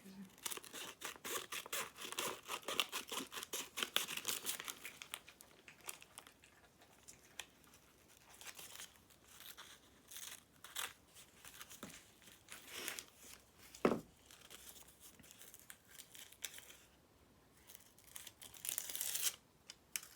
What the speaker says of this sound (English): And I'm just going to cut a strip off of it.